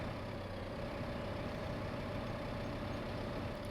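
A small tractor engine idles steadily in Farming Simulator 15, a constant low, even drone held close and unchanging throughout.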